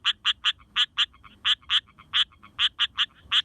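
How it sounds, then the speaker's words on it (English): A striped rocket frog from northern Australia calls in a recording, a series of sharp, evenly spaced raspy clicks in quick groups, about fifteen in all, close and clear against a quiet background. "I'll play the striped rocket frog call"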